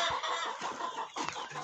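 Chickens cluck steadily and close by while being led out to forage in a frozen winter farmyard, with geese kept nearby; the clucking fills the clip with overlapping calls and no talk.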